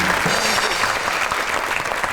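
Studio audience applauding to welcome a guest on a comedy talk show, steady dense clapping throughout, loud and close.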